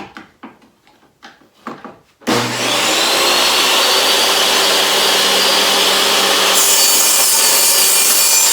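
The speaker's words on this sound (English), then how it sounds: "Table saw." A table saw rips into a rounded, warped wooden cane shaft with a loud, sustained whine and rasp that runs unbroken for several seconds, following a short stretch of quieter knocking and handling.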